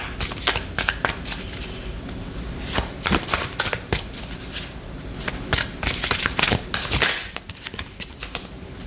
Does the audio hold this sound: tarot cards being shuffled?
yes